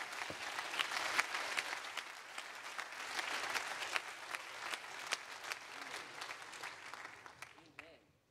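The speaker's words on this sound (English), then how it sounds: "I'm wondering if someone can clap their hands to the Lord this morning." Congregation clapping hands to the Lord at a Sunday morning church service, dense sustained applause with sharp individual claps, tapering off near the end.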